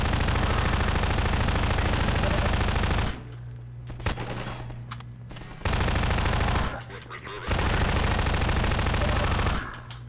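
Sustained automatic gunfire in the Half-Life 2 video game, loud and dense in long bursts separated by short pauses, with a few single shots between.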